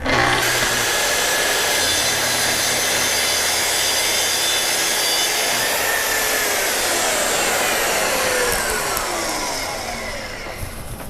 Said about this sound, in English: we're going to do one straight cut, and then without even moving anything, we'll bevel over to 45